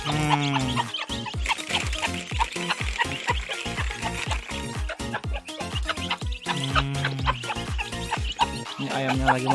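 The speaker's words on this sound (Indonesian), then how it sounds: "Ini ayamnya lagi makan guys" Chickens cluck busily and continuously, close by, with quick overlapping calls and pecking patter as they feed.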